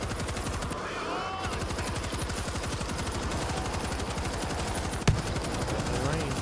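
Sustained rapid machine gun fire from a mounted gun in the World War Z co-op video game, a dense rattling stream of shots running throughout with a sharp louder crack near the end, as a voice talks over it.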